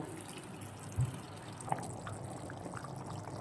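Broth is poured into a pot of pulao rice boiling in two cups of water, a soft continuous liquid wash and bubbling with a small splash near the start, close and fairly quiet.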